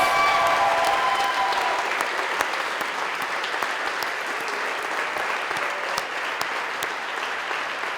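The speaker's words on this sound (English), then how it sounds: "Let's give them one more big round of applause." The audience at a college commencement ceremony applauds the graduates. Sustained, dense crowd clapping carries on at an even level for eight seconds, with individual claps popping out of the wash.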